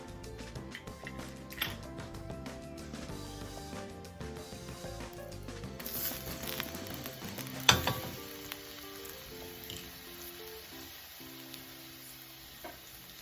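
Minced garlic sizzles in a pan as a lasagna is prepared, a faint steady crackle and hiss running throughout with a few light clinks and taps.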